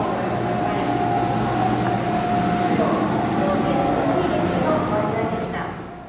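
A JR Resort View Furusato HB-E300 train runs on the Oito Line in Nagano's Northern Alps. It gives a steady, continuous rolling hum with faint tonal whines, heard from inside the carriage over about six seconds, with no pause in the sound.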